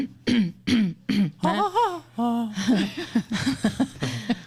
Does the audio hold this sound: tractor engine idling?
no